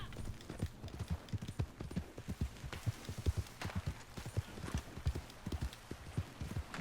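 Steady clip-clop of horse hooves on the ground in Red Dead, a close, rhythmic trot with even, repeating hoofbeats over faint background noise and no talking.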